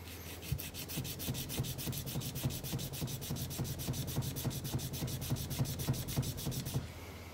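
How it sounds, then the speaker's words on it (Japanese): A guitar nut is rubbed back and forth on sandpaper held against a square wooden block, giving a steady run of quick, even rasping strokes, close and alone, that stops abruptly near the end. "ナットを押し付けながらペーパーでこう削ることで底面が、90度直角になるんですね"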